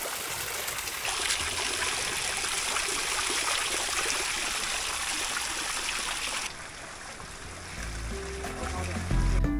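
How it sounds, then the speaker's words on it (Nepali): Cold water pours nonstop from a twin stone spout in a Gorkha hill village. The steady splashing rush is loud and close, then drops to a softer flow near the end, with faint voices in the background. "यो 2 ढुङ्गे धारा छ, अनवरत पानी आउँदो रहेछ"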